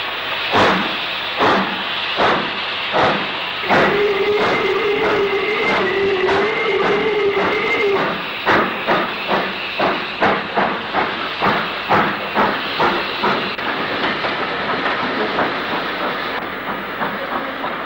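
Steam locomotive 44775 with its 4,000-gallon tender pulls away from Worcester heading south, loud chuffs gradually quickening into a steady beat over hissing steam, a sustained whistle-like tone midway, then clicking wheels on rail joints.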